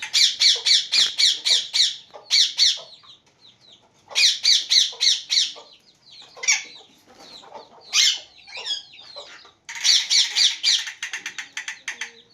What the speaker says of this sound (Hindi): ये हमारे कुछ मुर्गे हैं